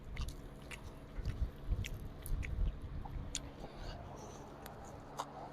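Crispy skin of grilled mackerel being chewed and bitten close to the mouth, soft repeated crunches and squishy mastication sounds at a steady pace with no talking, the eating session held in Pohang.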